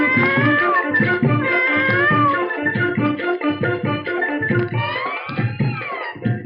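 A voice imitates cat meows in a rhythmic, sung pattern over a steady beat, repeated many times in quick succession, from a film song.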